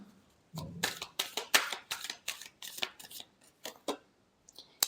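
A deck of tarot cards is shuffled close up in a run of quick, crisp, papery bursts, about a dozen strokes in an uneven rhythm, fairly quiet, with a light tap at the end.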